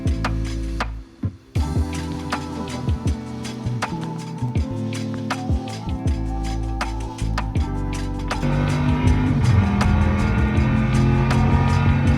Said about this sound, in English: This is some footage of Jason and Carson racing each other.